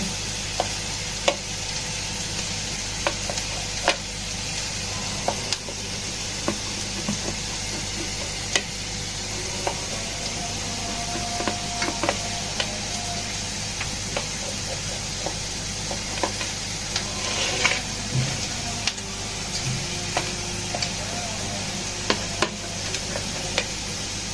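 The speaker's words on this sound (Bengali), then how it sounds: "চুলাতে পেঁয়াজ দিব পেঁয়াজ দিয়ে দিলাম" Onions fry in a pan on a stove with a steady, close sizzle, broken by frequent light scrapes and clicks of stirring over about twenty-four seconds, with no voices.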